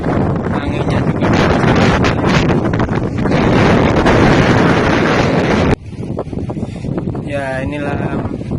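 Strong wind buffets the microphone on a sea cliff above rough southern surf, a loud roaring rush that drops abruptly partway through, while someone speaks briefly over it.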